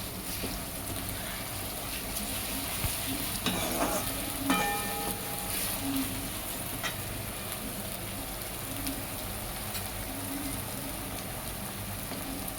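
Golden fried onion with ginger-garlic paste crackles in oil for veg rice, a faint, even rain-like sizzle with a few clinks of a utensil early on, steady and unhurried.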